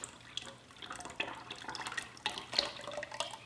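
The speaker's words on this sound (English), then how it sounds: "Now I'm going to put in my lye water solution." Lye water solution is poured into a handmade soap mixture of oils and fragrance oil, giving a soft, irregular trickle and splashing with small drips, close and quiet.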